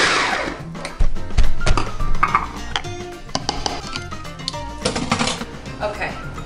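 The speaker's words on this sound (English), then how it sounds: "Blend it up." A blender whirs through a sauce of black pepper, salt and lime juice for mahi mahi tacos, loud and busy, with clattering kitchen knocks mixed in.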